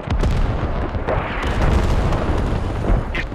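Artillery barrage in the military shooter game Squad, a dense run of heavy rumbling explosions and booms rolling one into another for several seconds, loud and close, with no speech.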